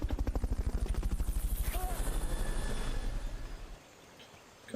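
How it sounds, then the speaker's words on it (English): The Fulton recovery helicopter from Metal Gear Solid: Peace Walker beats with fast, even rotor thumps that hold steady, then fade away in the last second. "Fulton recovery helicopter is complete"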